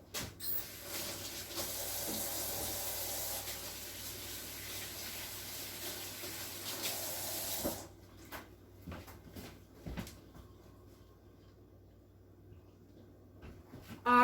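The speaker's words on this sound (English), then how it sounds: "let me go wash my hands real quick." Hands are washed at a kitchen sink: tap water runs steadily for several seconds, then shuts off, followed by scattered soft knocks, rubbing and cupboard-like clunks nearby.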